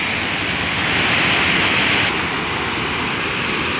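The Watu Purbo waterfall in Sleman, on a river flowing down from Merapi, pours with a constant loud broadband rush of falling water, close by and uninterrupted.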